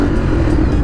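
An Italian motorcycle engine idles loud and close in traffic, a rough steady throb with no voices over it.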